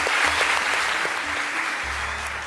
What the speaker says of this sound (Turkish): Alkışlarla uğurluyoruz.